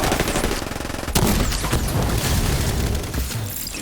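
Gunfire in the video game The Division 2, rapid bursts of shots with heavy booming impacts, loud and dense throughout.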